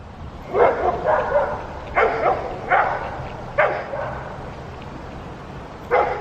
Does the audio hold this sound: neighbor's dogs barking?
yes